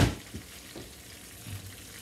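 Chicken cutlets fry in a pan with a steady sizzle, broken by a few soft stirring or shifting sounds close by, with no voices.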